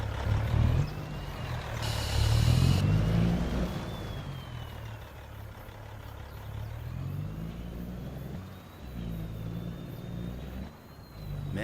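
A truck engine in Farming Simulator 25 pulling through short gear shifts: a low rumbling engine that rises and drops in pitch as it climbs through the gears, with a brief hiss of air partway through and a faint whine above.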